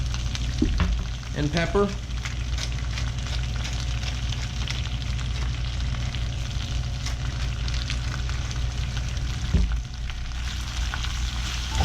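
Spinach, with salt and pepper, sautéing in a pan beside a lamb chop dish, a steady close sizzle with a few clinks and knocks of stirring, and someone speaking briefly near the start.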